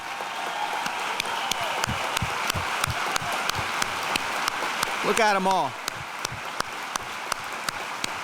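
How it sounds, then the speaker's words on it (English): An audience at the 38th Hispanic Heritage Awards ceremony claps for the board of directors in steady, loud, sustained applause that fills the hall, while someone speaks briefly over it. "If my board of directors could just stand up and get a round of applause for all the support."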